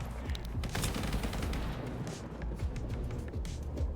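Dense bursts of rapid automatic machine-gun fire in a video game rattle on continuously with booming impacts mixed in, loud and chaotic throughout.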